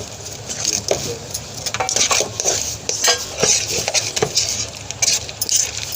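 Peanuts being stirred quickly into hot jaggery syrup for groundnut chikki, with a spoon scraping and clattering against a metal pan in busy, uneven bursts close by; no talking.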